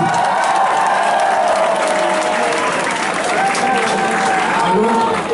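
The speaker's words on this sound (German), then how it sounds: "Bitte Applaus für euch selbst" Audience applause filling a room after a German rap performer's show, steady and dense throughout with a crowd murmur and some talk mixed in.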